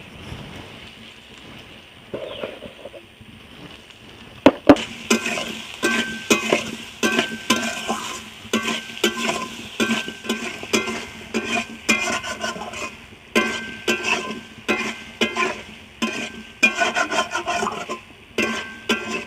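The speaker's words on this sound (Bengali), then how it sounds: "আমলকিটা তেলে বেশ কিছুক্ষণ লাড়ার পর" Amla (Indian gooseberry) pieces are stirred in hot oil, making continuous scraping and rubbing with a gentle frying crackle. It starts quietly, then becomes a busy rhythmic stirring close by.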